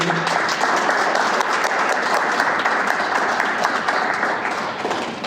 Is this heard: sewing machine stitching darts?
no